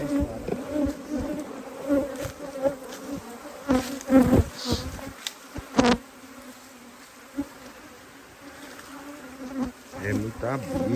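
Dense buzzing of honey bees swarming around wooden beehive boxes, close and fluctuating in loudness, with a few louder passes near the microphone and brief faint voices in the background.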